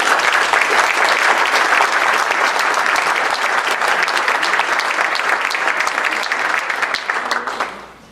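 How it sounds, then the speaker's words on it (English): Loud, dense clapping from a forum audience greeting a presenter, sustained evenly from many people before tapering off and fading out at the end. "So let's give Phil a round of applause."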